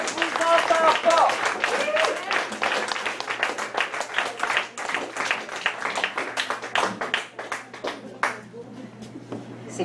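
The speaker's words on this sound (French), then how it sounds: "une bonne main d'applaudissements pour l'encourager" Audience applause at a slam poetry night in a Montreal bar, a lively patter of many hands that tapers off toward the end, with a voice talking over the start.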